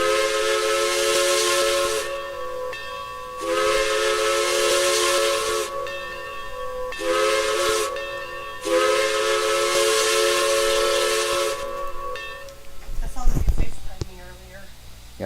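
Steam whistle of Gainesville Midland No. 209, a locomotive in the Trainz simulator, blows in several long sustained blasts with short gaps, loud and near, followed by a burst of hissing steam near the end.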